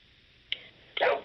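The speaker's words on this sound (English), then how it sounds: "my dog says hi" A dog named Teddy gives a short faint yip followed by a louder single bark, close by, over quiet background with no talking.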